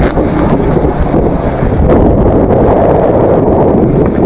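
Strong wind buffets the microphone during a bike ride in Laguna, in a steady, loud roar with gusty rumbling throughout.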